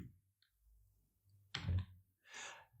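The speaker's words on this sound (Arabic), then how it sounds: "كل اللي عليك ان انت هتدوس على انتر من الكيبورد" A single sharp press of the Enter key on a computer keyboard, followed by a softer clack, quiet and close in an otherwise still room.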